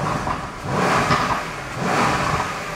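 A Mercedes-AMG C63 engine revving with its exhaust valve closed, two muffled rising blips of moderate loudness that settle back to idle, heard nearby with no talking.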